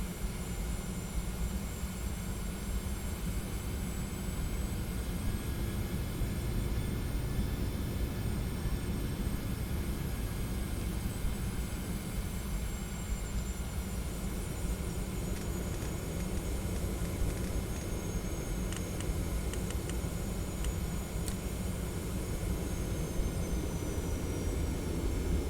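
An aircraft engine in the Prepar3D flight simulator game drones steadily at close range, a loud, unbroken hum and rush with no voices over it.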